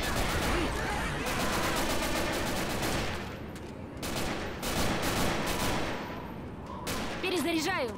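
Dense, loud gunfire in a Half-Life 2 mod video game, continuous bursts of shots filling the scene with brief dips, mixed with game effects and occasional shouted voices.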